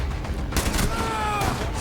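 VTR rifle fires in Rainbow Six Siege, a rapid burst of loud crackling gunshots at a high rate of fire, dense and close, over a brief span under a ringing tail.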